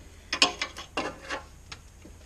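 Ratchet working a 13mm bolt loose on the alternator of a 2.2 TDCi Ford Transit, a few short close clicking bursts separated by brief pauses, with no talking.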